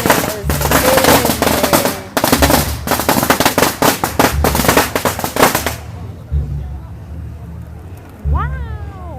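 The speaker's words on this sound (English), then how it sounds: "The smoke of firecrackers burning is amazing." Dense crackling bursts of firecrackers at a Chinese Spring Festival parade of the gods, loud and close, rattling in long volleys before dying down to crowd noise with voices and a short whistle near the end.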